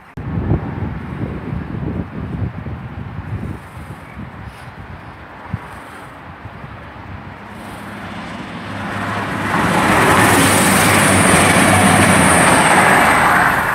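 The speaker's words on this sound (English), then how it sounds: "passing through there is a cross-country service from Reading to Newcastle" Cross-country passenger service from Reading to Newcastle passing through Tilehurst station, a loud continuous rumble and rush of the train building up and roaring steadily past, close by with no talk.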